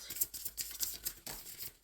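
Rapid papery riffling and snapping of tarot cards being shuffled, close up, in quick irregular bursts with no talking.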